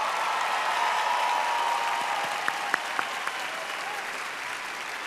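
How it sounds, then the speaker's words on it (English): Audience applause fills a large hall at the 2019 Miss Universe pageant, a dense steady wash of clapping with a few sharper claps standing out, holding at an even level throughout. "everyone, give her a big round of applause"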